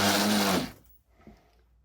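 QMWheel D2 e-bike motor running rough under throttle with no power, a loud buzzing whir for about half a second that cuts out abruptly, then faint clicks and rattle.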